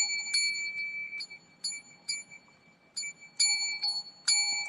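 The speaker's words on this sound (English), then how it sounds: "Do you like that bell, guys?" A small bell rung by hand repeatedly, several bright ringing strikes in irregular bursts with short decays between them, clear and close in a quiet room.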